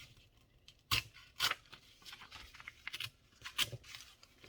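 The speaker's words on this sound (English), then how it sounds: "I'm trying to rip the images too, if I can." Paper images ripped by hand in a crafting session, several sharp, close tearing bursts spaced irregularly with softer rustling in between, quiet overall.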